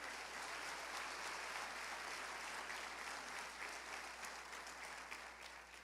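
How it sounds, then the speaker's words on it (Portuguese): Church congregation applauding the Lord during a sermon, a sustained broad roar of many hands clapping, steady and unbroken, fading slightly toward the end. "aplauda o Senhor"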